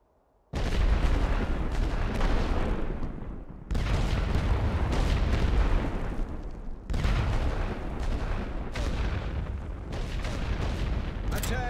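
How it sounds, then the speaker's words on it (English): Artillery barrage in The Great War: Western Front game: a dense, continuous rumble of booming gunfire arrives in three long sustained waves after a brief quiet opening, loud and heavy throughout. "Load for area barrage."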